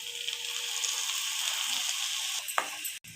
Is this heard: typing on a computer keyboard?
no